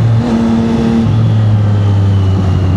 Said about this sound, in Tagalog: itulak ko lang siya palabas kasi malakas yung exhaust nito